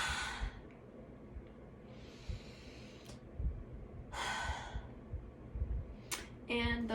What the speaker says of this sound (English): stick out the tongue and breathe out